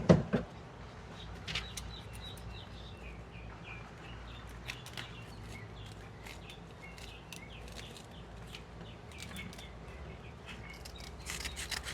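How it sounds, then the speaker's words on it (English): Scissors snip through a luffa vine in a Florida garden, giving a few faint, sparse clicks against outdoor ambience with chirping birds. "I'm gonna have to use some scissors and cut this guy."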